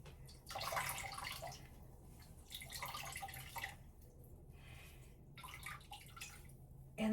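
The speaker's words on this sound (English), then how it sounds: "I've got my dandelion petals in the cheesecloth, and I've just been squeezing just to get any of the last little bits of the liquid" Liquid drips and trickles from a squeezed cheesecloth bundle of dandelion petals, faint, irregular splashing bursts close by in a quiet kitchen.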